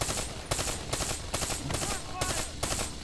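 Rapid automatic gunfire in Call of Duty: Black Ops III, loud bursts of close shots in repeated volleys separated by brief pauses, steady and punchy throughout.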